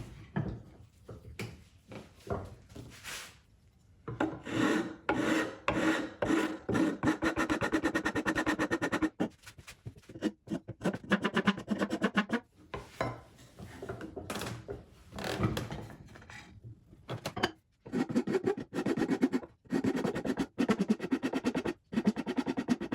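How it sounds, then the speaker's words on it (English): Iwasaki file rasping along the wooden edges of a butler's tray, bursts of close, gritty back-and-forth strokes separated by short pauses. "Now I'm going to be using my Iwasaki files. I have a medium and a fine to smooth out these edges"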